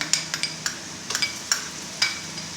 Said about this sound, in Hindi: अब इनको अच्छी तरह मिक्स करके ब्राउन करेंगे